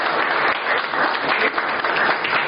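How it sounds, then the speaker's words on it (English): An audience claps steadily and enthusiastically, a full round of applause that stays even in loudness from start to finish. "can we have a huge round of applause for them?"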